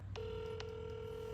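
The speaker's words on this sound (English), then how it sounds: "I'm going to place a phone call to the car dealership" A landline telephone tone sounds steadily as a call to a car dealership is dialed, with a couple of brief higher keypress blips near the start over a low background hum.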